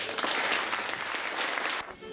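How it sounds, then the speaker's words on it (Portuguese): Warm audience applause in a theater, broadcast on radio, fills about two seconds as dense, steady clapping that drops off sharply near the end. "com uma calorosa salva de palmas"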